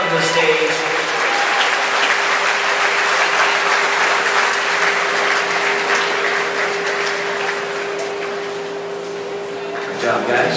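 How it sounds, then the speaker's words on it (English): Audience applause at an Elvis festival awards show honoring non-professional early-years tribute contestants, a loud sustained clapping filling the room from start to finish, gradually thinning near the end. "let's give them a round of applause"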